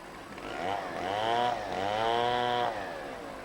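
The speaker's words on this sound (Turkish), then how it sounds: "Odun kesiyorlar motorla." A chainsaw cuts firewood in a small Gaziantep town, heard from a moderate distance as a steady buzzing whine that rises in pitch under load and then settles back, with no voices.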